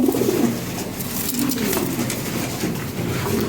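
Fancy pigeons, Lahori Sirazi birds among them, coo in low, throaty, repeated rolls close by, several birds overlapping in a cluttered loft-like space, with faint background voices mixed in.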